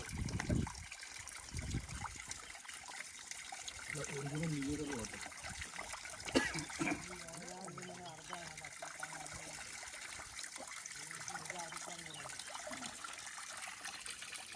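Drinking water from a mountain spring source trickles steadily and faintly, a continuous light flow with a person talking over it.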